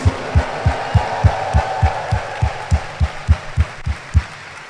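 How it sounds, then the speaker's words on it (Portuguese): A congregation at a Catholic Mass claps in unison, a steady, evenly spaced beat of about three claps per second, close and fairly loud, with a faint murmur beneath. "Dê uma salva de palmas para Jesus"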